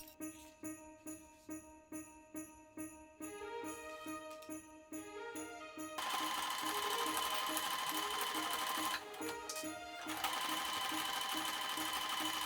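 A sewing machine stitches the top edges of a fleece holiday stocking and its lining together, starting with short rhythmic bursts of stitching, then a long steady run that stays close and fairly loud with a brief pause near the end.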